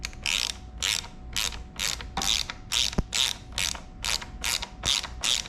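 A hand ratchet wrench clicks in quick, regular bursts while backing out bolts on a Triumph Scrambler 400X motorcycle's rear rack. About a dozen close, crisp ratcheting strokes follow one another in steady rhythm.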